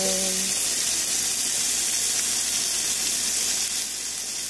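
Lemon juice poured into melted butter in a hot pan gives a steady, close sizzle and hiss that holds evenly throughout without fading.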